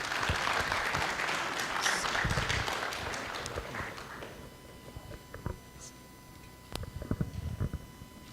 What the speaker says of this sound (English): Please join us in welcoming, with a warm round of applause, Mr. Dinesh Yuvaneshwaran.